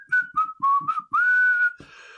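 A person whistles a short tune up close: several quick chirpy notes, then a longer held note that slides gently, ending in a soft breathy rustle.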